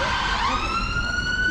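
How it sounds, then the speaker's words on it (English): An ambulance siren wails past near a classic car meet at a stock yard, its rising and falling tone loud and close, sweeping upward as the vehicle goes by. "So as an ambulance goes by,"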